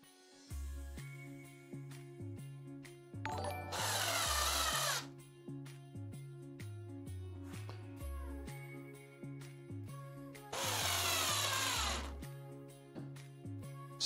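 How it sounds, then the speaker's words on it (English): Electric auto screwdriver driving screws while assembling a Lian Li O11 Dynamic XL PC case, two sustained whirring bursts of a few seconds each, close and fairly loud, with background music running throughout. "I believe this is a pretty short process with the auto screwdriver."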